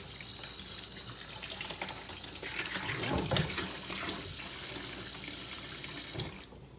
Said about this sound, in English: Just gonna give this a quick little rinse here so I don't have to contend with this later.